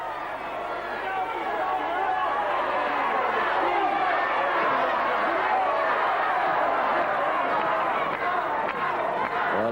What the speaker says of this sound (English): you can hear those shouts from the crowd here